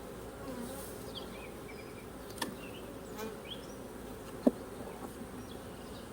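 Russian honey bees buzz steadily on a brood frame pulled from a hive, a dense low drone with single bees passing close now and then and one brief sharp knock.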